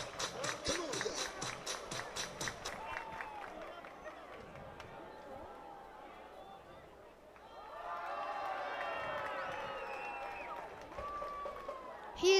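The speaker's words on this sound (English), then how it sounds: "Everybody clap your hands" At a Welland Jackfish versus Brantford Red Sox baseball game, the crowd claps in a steady rhythmic beat for a few seconds, then fades into loud stadium babble and cheering, with voices talking over the noise.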